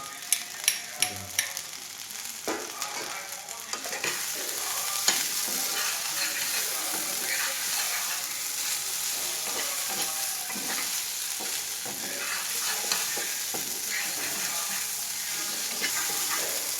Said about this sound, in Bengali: একটু কি লাল লাল করে ফ্রাই করতে হবে